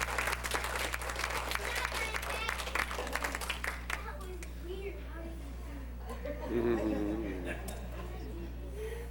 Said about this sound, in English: Now let's give her a round of applause